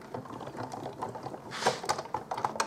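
A die cutting machine is cranked by hand to cut a paper branch for a card, giving a close, fairly quiet run of ratcheting clicks and rattles that swells briefly near the middle.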